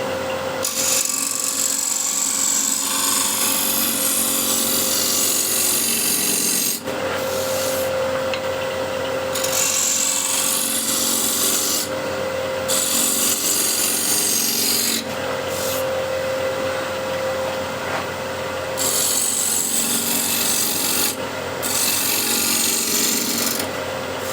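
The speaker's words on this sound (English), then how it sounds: "Just see how it scrapes" A hand tool scrapes across a wooden surface in long, rasping strokes, with brief pauses and a faint steady hum behind, close and fairly loud with no speech.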